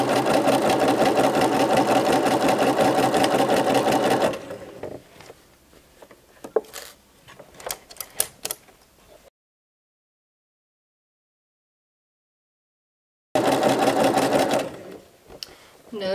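A sewing machine stitches a casual skirt with pockets in fast, loud, steady bursts. Between runs come quiet pauses with light handling clicks and a stretch of full silence, and then the machine starts up again.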